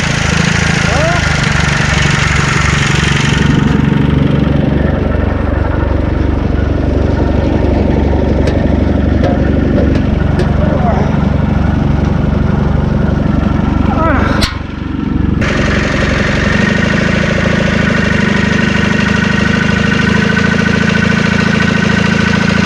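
A Massey 821 tractor with a Hanomag engine idles loudly and steadily nearby, a constant low rumbling chug with brief clanks and a short dip in the noise partway through.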